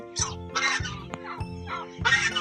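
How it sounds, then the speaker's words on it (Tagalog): Several turkeys gobble and cluck in short bursts, loud and close, with brief pauses between calls. "Ito po yung mga pabo natin."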